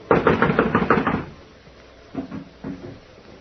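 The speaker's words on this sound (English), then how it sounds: "It's locked from the inside. Well, someone is definitely in there. I'm going to knock." A rapid burst of about eight hard knocks on a locked wooden door in an old-time radio drama, close and loud, then a pause before two more separate knock clusters.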